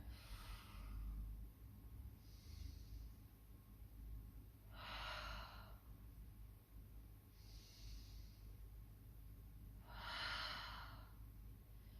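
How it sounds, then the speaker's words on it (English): Slow, deliberate breaths during a somatic hamstring stretch, drawn in and out close by in a steady rhythm about every two and a half seconds, with some exhales fuller than others, over quiet background hiss and no talking. "Breathing here."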